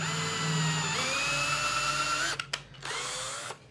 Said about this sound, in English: Just a little bit of drilling.